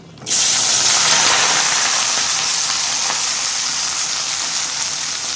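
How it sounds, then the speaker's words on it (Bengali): Pointed gourd (potol) is tipped into hot oil in a pan, and a sudden loud burst of sizzle follows, a close, bright hiss that keeps going and fades only slightly over several seconds. "তেলটা ভালো করে গরম হয়েছে, পটল ঢেলে দিই।"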